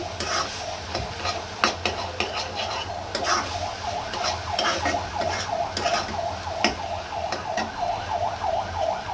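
Saag, leafy greens, frying in a pan with steady sizzling and repeated scraping stirs from a spatula, a constant close crackle with a hum beneath, no one talking.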